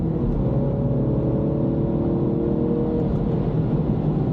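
A MINI Cooper S (F56) pulls hard out of a sweeping turn on a race track, its engine note loud, close and steady, with a continuous droning growl and no talk over it.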